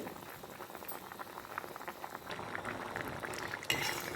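Masoor dal and potatoes boil in a pot, a continuous close bubbling simmer with faint clinks, steady throughout and slightly louder toward the end.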